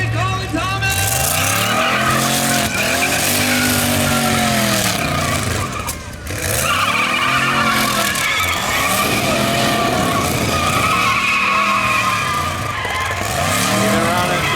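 A 1940 twin-turbo rat rod engine revs hard while its tires spin and squeal, loud and continuous with repeated rising and falling surges, and a crowd or announcer voice runs faintly underneath.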